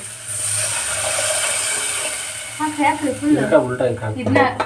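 Spice tempering sizzles and crackles in hot oil with a steady hiss; partway through, a person starts talking over the frying.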